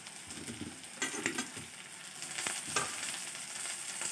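Chopped capsicum hits hot oil with browned onions in a pan, giving a steady sizzle broken by a few sharper crackles and scraping stirs, close and moderately loud.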